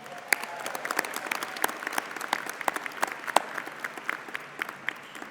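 Individual claps stand out crisply within moderate, scattered applause from a crowd at a 2019 Colorado School of Mines midyear commencement, sounding lively and uneven rather than a solid roar.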